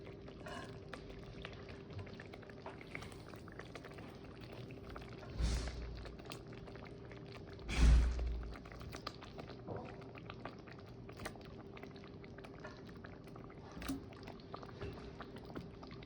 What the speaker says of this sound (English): So I'm going to add the drumsticks